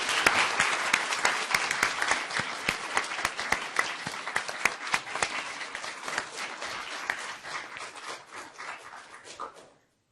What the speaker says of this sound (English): I'd like to hear a hand of applause for all these people